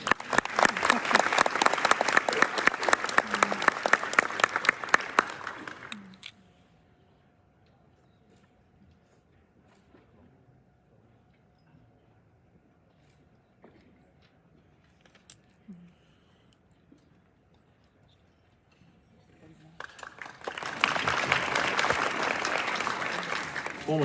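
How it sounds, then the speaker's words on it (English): An audience at a forum bursts into a round of applause for a teacher, loud and dense for several seconds. The clapping fades to near silence, then a second strong wave of clapping rises at the end. "why don't we give him a round of applause?"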